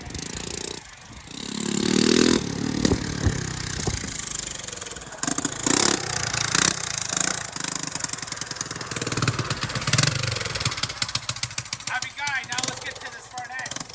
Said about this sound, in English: So we're not finished, but man, I had to go for a ride.